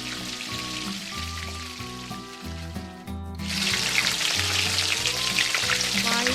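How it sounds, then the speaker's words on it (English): Food deep frying in cooking oil at 190 degrees Celsius gives a steady crackling sizzle under soft background music, growing louder and denser about halfway through. "Fry for about 5 minutes."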